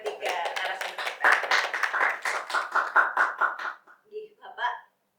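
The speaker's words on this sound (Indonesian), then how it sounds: "Tepuk tangan dulu untuk ketiga narasumber kita." An audience claps for three guests at an Indonesian school anniversary podcast, a close, steady burst of clapping that thins out and ends in a few scattered claps.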